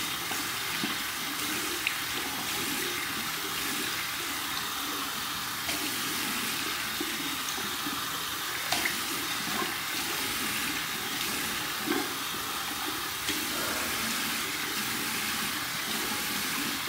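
Lukewarm tap water runs steadily into a sink while soap is rinsed out of a knot, a constant close hiss and splash with small irregular spatters and no talking.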